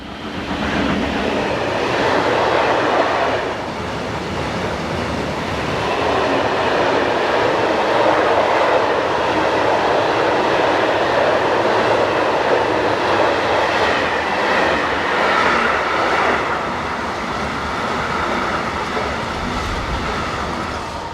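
A Prima electric locomotive rumbles past steadily for about twenty seconds on the Hannover to Magdeburg main line in Germany, loud and close, with a broad roar of wheels on rails and faint rhythmic clatter, no voices.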